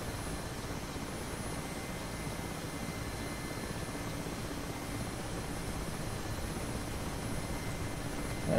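An Mi-8 helicopter in the DCS flight simulator makes a steady, loud drone of rotor and turbine engines that stays constant throughout, with no voices.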